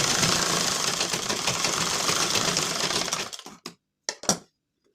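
Sewing machine stitching a blouse runs in a fast, loud, steady whir up close, then stops abruptly into a few short stitch bursts and silence.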